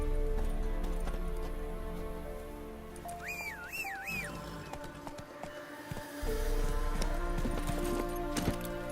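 Roach the horse trots in The Witcher 3, a steady clip-clop of hooves with a brief whinny partway through, over soft rain and game ambience.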